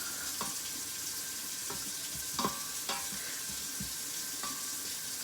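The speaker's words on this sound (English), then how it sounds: "as soon as this butter melts in there, you're going to saute those onions and soften them up" Onions sautéing in melted butter in an Instant Pot, a low steady sizzle with a few brief spoon scrapes and taps, quiet and close with no talking.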